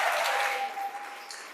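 A crowd claps together at an anniversary gala, a dense and fairly loud patter of hands that slowly fades.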